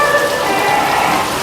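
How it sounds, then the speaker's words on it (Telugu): Steady rain falls at a Hindu temple, a loud, dense hiss of drops spattering on hard surfaces close by, continuous and even with no voices. "వర్షం అయితే ఆగట్లేదు."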